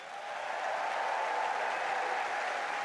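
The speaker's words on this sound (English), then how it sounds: "Warmly applauded to collect the trophies." Sustained applause from a large standing crowd on Wimbledon's centre court as the 2025 mixed doubles champions collect their trophies, a dense, steady clapping roar that holds evenly throughout.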